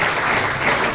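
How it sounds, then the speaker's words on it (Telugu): A church congregation claps loudly and steadily during a Sunday sermon, the dense applause filling the moment with no voices over it. "గట్టిగా చప్పట్లు"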